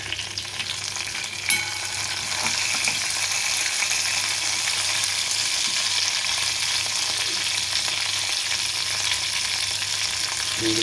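Urad dal, one dried red chili and curry leaves sizzle in hot oil for a charred plantain curry, a continuous close crackle with occasional stirring clinks and a sharp knock near the start, no talking.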